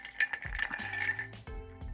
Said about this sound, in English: So I'm gonna serve it up in a rocks glass.